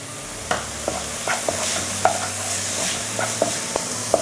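Crushed shallots sautéing in a pan for pappadam pachadi, a steady close sizzle with repeated sharp spoon-stirring clicks and scrapes against the pan, no talking.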